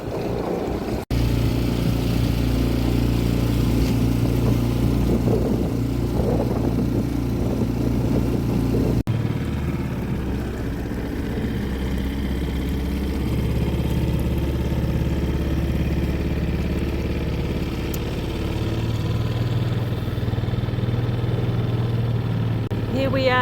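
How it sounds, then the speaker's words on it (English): Sailing dinghy motoring on Lake Te Anau behind Doubtful Island in Middle Sound, the small outboard engine humming steadily and close throughout, with water wash and someone talking over it. "Here we are just motoring up behind Doubtful Island at the head of Middle Sound"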